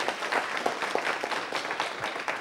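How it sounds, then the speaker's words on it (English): Applause from a city council meeting audience for a group of students, steady scattered hand-claps at moderate level for a couple of seconds. "Everyone, please give them a round of applause again."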